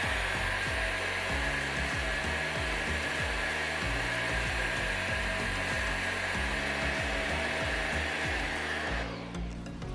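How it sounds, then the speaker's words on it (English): A blow dryer runs close and loud as it dries natural hair, its constant airy roar continuing with a soft rhythmic ticking underneath before it cuts off near the end. "And then I'm gonna chase it with the blow dryer."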